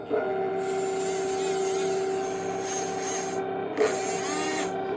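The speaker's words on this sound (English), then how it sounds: "So, moving the turret." Heng Long 1/16 scale RC tank turret rotating, a steady faint electric motor whine with a mechanical gear hum, close by, with brief pauses and a small clunk partway through.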